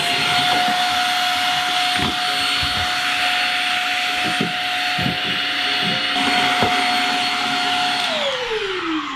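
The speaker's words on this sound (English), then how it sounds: "I'll take my little vacuum cleaner" A small vacuum cleaner runs steadily with a high whine and broad hiss while vacuuming out a refrigerator water filter area, with a few bumps and knocks, then its motor pitch drops as it winds down at the end.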